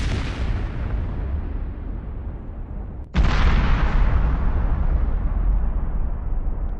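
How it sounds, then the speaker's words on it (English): Stored ammunition cooks off: a long rumbling blast fades out, then a second sudden, much louder explosion erupts and rolls on with a deep, sustained roar. "They're getting hotter and hotter, leading to an incredibly powerful explosion."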